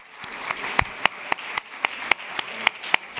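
A round of applause for university presidents at the Iowa Hunger Summit, with a few loud, close claps standing out at a steady rhythm over a dense wash of crowd clapping.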